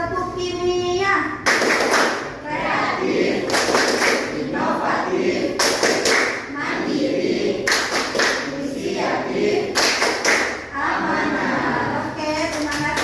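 Schoolchildren in a chemistry classroom perform a chanted clap routine, with loud rhythmic bursts of hand claps and thumps between spoken chant lines. Young voices call out together throughout.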